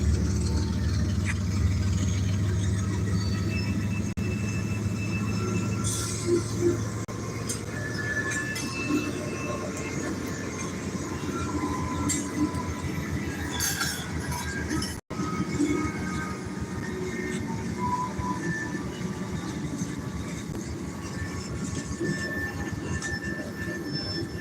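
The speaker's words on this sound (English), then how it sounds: "Here comes a train or something." A train rolls past a street crossing with a steady, loud rumble of wagons and wheels, occasional squeals and rhythmic clatter sustained throughout without fading.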